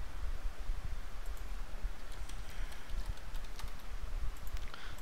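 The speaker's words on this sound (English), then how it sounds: "So I'm going to type my password," Quick, steady clicking of keys on a computer keyboard as a password is typed, soft and close, with no talking.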